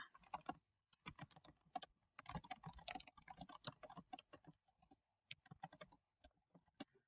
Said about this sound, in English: I am going to type out what my words are going to be first